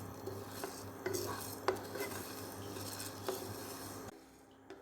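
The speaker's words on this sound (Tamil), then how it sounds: "மல்லிக்கு அடுத்து அரிசியை நல்லா செவக்க வறுத்து எடுத்துக்கோங்க" Rice is dry roasted in a pan for kulambu spice powder, with soft stirring scrapes and light clinks of a utensil over a low background hum that cuts out near the end.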